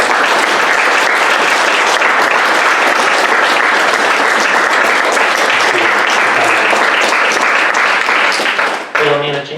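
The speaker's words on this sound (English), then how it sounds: "A round of applause." A loud, dense round of applause from an audience at an ME/CFS service awards ceremony, steady and sustained for several seconds before cutting off abruptly as a voice begins speaking.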